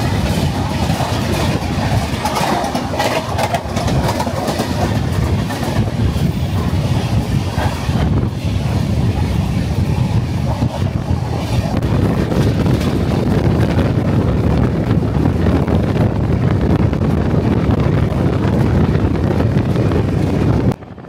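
The 18410 Puri Shalimar Sri Jagannath Express runs along, heard from beside an open door. A loud, continuous rail rumble is mixed with heavy wind buffeting for the whole stretch.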